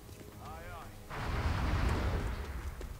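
A single heavy gunshot booms out in XCOM Enemy Unknown and rolls into a long, rumbling decay that fills the rest of the moment after a short electronic chirp.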